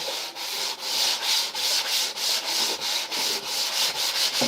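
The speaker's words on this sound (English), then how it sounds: "Got to sand it down." Hand sanding over a patched drywall repair, a rhythmic rasping scrape repeating about twice a second in even back-and-forth strokes, close and alone.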